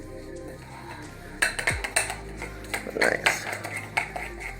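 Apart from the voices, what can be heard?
stirring food in a pot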